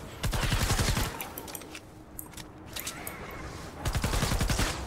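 Rapid bursts of gunfire from shooting zombies in Fortnite Save The World, loud and dense at the start and again near the end, with a quieter stretch of scattered shots in between.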